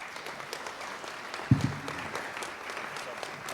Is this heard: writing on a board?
no